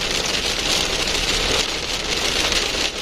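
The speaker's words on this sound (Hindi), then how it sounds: "बारिश अब कॉन्टिन्यूसली और बहुत हैवी रेन है" Heavy, continuous rain drums on a car driving along an open road near Bikaner, a dense steady hiss close around the cabin with a low engine rumble beneath it and no voices.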